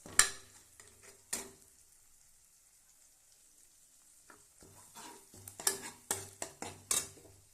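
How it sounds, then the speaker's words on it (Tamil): A spoon stirring egg into idiyappam biryani in a pan, with a few sharp scraping and clinking strokes, a quiet pause, then a quicker run of scrapes and light sizzling. "இதையும் போட்டுட்டு நல்லா கிண்டிக்கலாம் ஃப்ரெண்ட்ஸ்"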